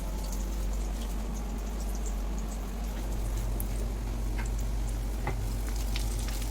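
Steady, crackling sizzle of malai kofta balls frying in very hot oil, continuous and fairly close, with occasional sharper pops and a low hum underneath.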